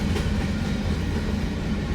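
CSX coal train of loaded coal cars rolling past a railroad crossing, a loud, steady rumble with rhythmic wheel clatter, close by and without talk.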